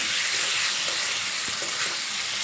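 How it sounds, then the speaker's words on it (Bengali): Papaya pieces sautéing with spices in a pan for a papaya and masoor dal dish, a steady close sizzle and hiss with faint stirring scrapes and no talk. "দেখো এখানে মশলার সঙ্গে পেঁপেগুলো বেশ কিছুটা সময় নিয়ে কষিয়ে নিয়েছি"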